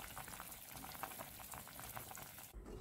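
Peppers for winter preserves boil in a pot, a steady bubbling simmer with continuous liquid popping at moderate level, ending in a brief shift of sound near the end.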